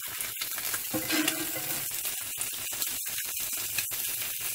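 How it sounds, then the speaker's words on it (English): An egg fries in a cast iron pan with a continuous close crackling sizzle and rapid pops, and no one speaks. "let it fry a little bit more"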